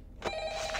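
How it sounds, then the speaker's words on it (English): An in-game telephone rings in the horror game Ultimate Custom Night, a single bright, steady electronic ring starting abruptly and holding loud and close for under a second, with no talking over it. "Phone! Somebody get the phone!"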